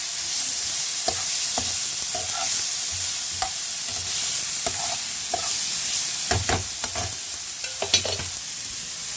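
Ginger and green chilli paste sautéed in a pan, a constant sizzle broken by irregular spatula scrapes and taps, several clustered strokes near the end, close and clear with no talking.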